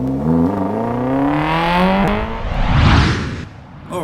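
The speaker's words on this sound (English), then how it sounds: "Or a new stage 2 exhaust system." A Lotus sports car fitted with a stage 2 exhaust revs hard, its engine note climbing steadily in pitch over several seconds before a loud whooshing surge, close and with no talking.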